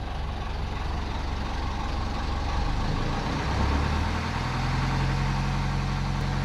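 The engine of a wooden boat under restoration runs at a steady, low idle, a continuous droning chug that holds even and unbroken throughout.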